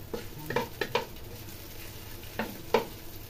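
Dried chili peppers toast in oil in a pan for adobong mani, with a low, soft sizzle under several light stirring scrapes and taps. The sounds are close, faint and spaced irregularly.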